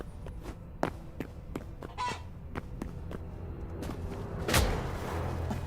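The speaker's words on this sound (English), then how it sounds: "That's a chicken." Chicken in the video game Hytale making a run of short, sharp clucks at an irregular rhythm, with a louder honking squawk near the end, fairly close and alone.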